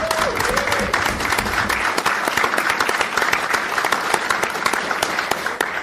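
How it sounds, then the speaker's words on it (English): A live podcast audience applauds event volunteers, dense sustained clapping from a crowd that stays loud and steady throughout, with a brief faint tone at the start. "we'll give them a big round of applause"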